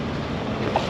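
A passenger boat pulls in to a stop near Tivat, Porto Montenegro, its steady broadband engine and water rumble continuing under wind noise.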